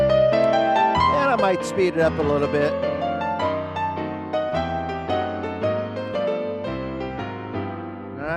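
Lowrey organ plays its Fake It Plus piano accompaniment style, dense chords with a running melody, loud and continuous while someone speaks briefly over it.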